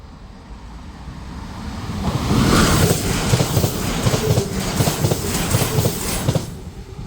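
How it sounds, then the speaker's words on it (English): A train passes the level crossing at Blakedown station, rising from a distant rumble to a loud close roar with rhythmic clattering wheels, then holding steady as the carriages go by. "we are down for that train that's coming from that direction. There it is"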